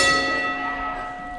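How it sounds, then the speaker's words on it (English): Ring bell at a wrestling match, struck once and left to ring out with a bright, sustained metallic tone that slowly fades. "And the bell rings."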